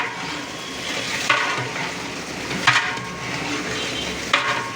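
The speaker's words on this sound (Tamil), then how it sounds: "அரைச்சி இஞ்சி சேர்த்து ஒரு ரெண்டு திருப்பி திருப்பிக்கலாங்க" About 2.5 kg of ground ginger is stirred into a large 25 kg batch of frying Kanchipuram-style tomato rice base. Three heavy scraping strokes come at intervals over a constant sizzle.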